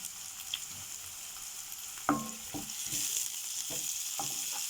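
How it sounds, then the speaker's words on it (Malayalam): Sliced onion frying in a pan for a snack gives a continuous close hiss and sizzle, broken by a sharp stirring knock and several lighter scrapes, with no talking. "ഉള്ളി ഏകദേശം വെന്ത് വാടി വരുമ്പോൾ"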